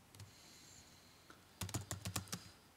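Keys tapped on a computer keyboard, a brief isolated click early on, then a quick burst of a dozen or so crisp keystrokes near the end, fairly close and quiet with no voice.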